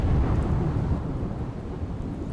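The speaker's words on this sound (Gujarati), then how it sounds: "ભરૂચમાં ગાજવીજ સાથે ભારે વરસાદ થયો।" Thunder rumbles low and heavy through a downpour of rain in Bharuch, a loud, continuous roll that slowly eases over a couple of seconds with no voices.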